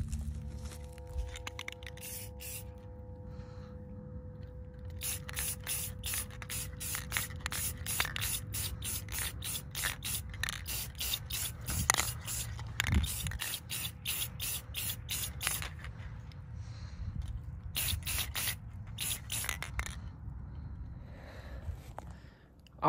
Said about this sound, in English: now we're ready to spray